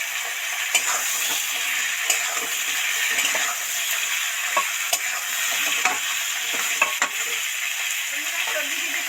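Tomato and potato frying with softened onion in a pan, a loud steady sizzle broken by repeated scraping and clinking of a spoon against the pan, close up.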